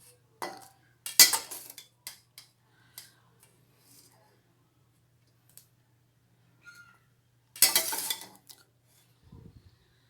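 A spoon scraping and clinking in a bowl as cooked turnip is mixed into masala, with sparse irregular metallic taps and two louder bursts of rattling stirring, separated by quiet gaps.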